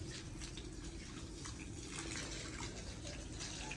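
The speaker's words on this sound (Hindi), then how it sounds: "थोड़ा थोड़ा पानी लगा के पोछा लगाते हैं फिर।" Water splashing and running steadily as it is poured onto a floor for mopping a room, a continuous faint wash of flow with no talking over it.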